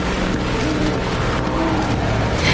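A speeding truck roars along a rain-wet road at dusk, engine loud and close with tires skidding and squealing throughout, ending in a crash.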